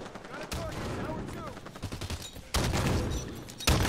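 Gunfire and explosions in the video game Halo 5, with a sharp blast cutting in partway through, then another burst near the end, amid continuous rattling shots and game noise.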